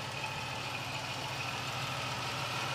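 A 1995 Chevrolet Camaro convertible engine idles steadily at close range, an even rumble with a faint mechanical hum and no voices.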